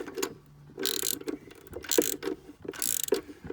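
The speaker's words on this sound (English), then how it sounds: "Undo the tensioner for the alternator, remembering it is a left-hand thread." A ratchet turns the left-hand-thread alternator tensioner bolt on a Kia Picanto during an auxiliary belt change, heard as three close, bright bursts of rapid metallic clicking separated by short pauses.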